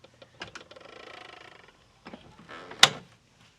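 Hood latches on a 1995 Mercedes-Benz E320 released one after the other: a mechanical ratcheting rattle near the start, then a sharper metallic clack near the end, close and fairly quiet with no talking.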